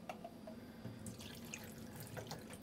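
Running tap water pours into a kitchen sink while dried beans are rinsed for buffalo chicken chili, a steady splashing stream with scattered drips and clinks, close and continuous, with no talking.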